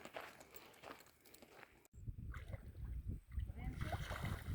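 Reservoir water splashes as camping gear is rinsed at the end of a muddy trail, a steady mix of close sloshing and splatter continuing without pause, with outdoor noise and movement around it.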